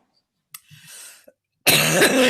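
A short hacking cough from someone with a chronic cough, then a burst of harsher, louder coughing close to the microphone.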